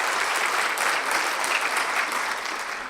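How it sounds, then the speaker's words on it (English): A brief round of applause from an audience at an opening speech, even and continuous clapping that tapers slightly at the end. "So can we have a round of applause for Banagas as well?"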